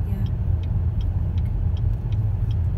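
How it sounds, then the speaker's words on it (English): A car on the road passing near a vehicle whose occupants are driving in traffic, a steady low engine and tyre rumble with faint repeated ticks above it, no voices. "Wait, there's a car."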